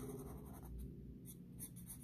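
A pen coloring in the lines of an emoji drawing scratches softly and steadily for about two seconds, with faint bursts of stroke noise and no talking.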